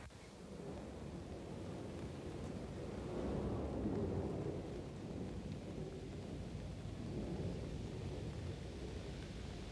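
Rain and thunder from a film scene: a steady wash of falling rain with a deep rolling thunder swell building in the middle, continuous and fairly faint.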